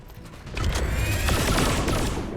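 A rapid burst of gunfire in XCOM 2 rattles out as a fast volley of cracks, loud and close, with a brief quieter lead-in and no talk over it.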